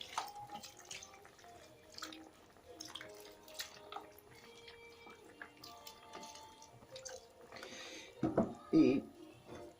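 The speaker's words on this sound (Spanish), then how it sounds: "ahora le cubrimos con el caldito" Broth being poured over rabbit stew with potatoes in a pot, heard as quiet intermittent dripping and trickling liquid, close and faint, ending in a brief louder splashing pour.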